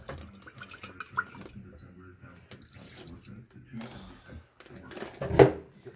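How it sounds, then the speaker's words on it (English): Water sloshed and stirred inside a bag to rinse spices off jerky, soft intermittent swishing with one louder splash near the end, under quiet talk. "Put some water in there, get all the spices out."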